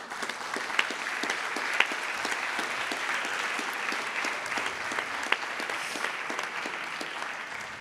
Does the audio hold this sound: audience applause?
yes